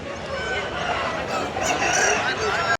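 A native country rooster at a hen market lets out a loud, close crow lasting nearly three seconds, with market background chatter around it.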